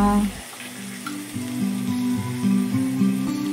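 Country chicken fries in a pan with a continuous sizzle, close and fairly loud, mixed with low humming tones and light movement.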